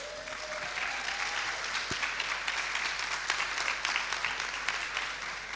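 Continuous applause from a seated audience at a women's leadership summit, many hands clapping in a dense, even patter that stays level and fairly distant, with a faint tone and a thump early on.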